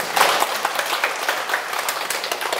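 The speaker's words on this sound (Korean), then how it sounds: "아, 자 좋은 질문인데 박수 한번 치세요." An audience at a talk claps in a short burst of fairly close, crisp handclaps, uneven and pulsing, then thinning as it tails off.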